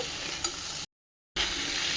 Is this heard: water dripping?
no